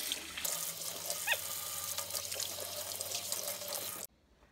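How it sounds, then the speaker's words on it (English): Tap water runs steadily into a sink as hands are washed before peeling potatoes and carrots, a continuous close splashing flow that stops abruptly near the end. "So the first thing you need to do always is wash your hands."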